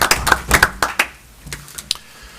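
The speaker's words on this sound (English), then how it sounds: "So I'm going to give ourselves a round of applause" Scattered hand claps ring out in a council meeting room, a handful of sharp, fairly close claps in the first second that thin out into a few isolated ones before fading.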